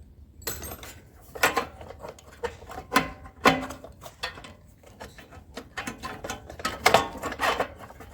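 Carburetor studs being slid out by hand on a zero turn mower, giving a series of short metallic clicks, scrapes and clinks at close range, uneven in rhythm, with no talk.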